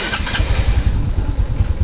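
A motorcycle engine turns over and catches, giving a close, loud, uneven chugging pulse that settles toward an idle.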